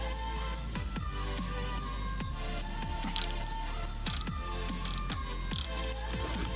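A wrench works a bolt on a Harley-Davidson Sportster motorcycle, giving repeated ratcheting clicks and short metallic creaks in a loose rhythm, close up and moderately quiet, with no voices.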